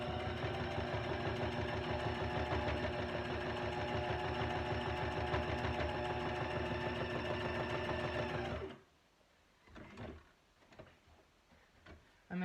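A sewing machine runs a steady straight stitch around a collage-board tag, its rapid even motor chatter loud and continuous for most of the stretch before stopping abruptly, leaving a few faint handling knocks.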